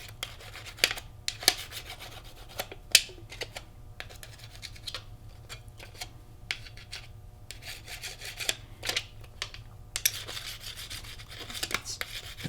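Cut edges of an aluminum bookmark being burnished: quiet, irregular scraping and rubbing strokes with small clicks, close by and alone.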